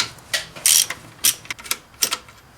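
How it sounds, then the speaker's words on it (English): A 15mm socket on a ratchet loosens a bracket nut on a Dodge Ram during water pump replacement, giving a run of quick, dry clicks in short irregular bursts, close and fairly quiet. "I'm using a 15mm socket to loosen that one up."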